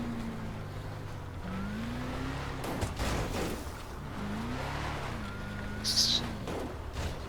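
Vehicle engine in a video game straining and revving as it climbs a hill at night, a steady droning hum with rising and falling pitch, heard under someone talking.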